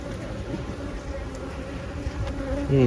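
Honeybees buzz at an opened beehive near the excluder, a steady, dense droning hum throughout, with a voice starting at the very end.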